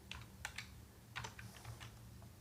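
Keystrokes on a computer keyboard, typing CSS padding values, come in a few quick clusters of soft clicks close to the mic over a faint steady hum, with no talk.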